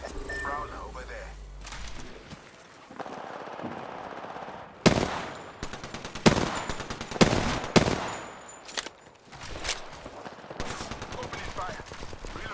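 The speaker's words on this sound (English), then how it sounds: "Opening fire." Bursts of automatic gunfire ring out in the video game Apex Legends, sharp loud volleys in rapid clusters with pauses between, under bits of in-game voice chatter.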